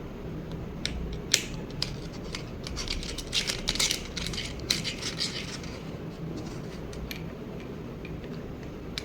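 Screw mount of a budget tripod being tightened by hand, giving a run of close, small mechanical clicks and creaks with ratchet-like ticks over a faint steady background.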